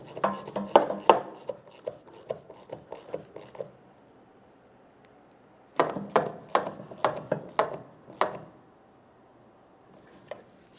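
Hose clamps tightened on the fuel tank filler neck of a 1994-2002 Dodge Ram 2500: two bursts of close, sharp ratcheting clicks separated by a pause, then one last faint click, with no talking.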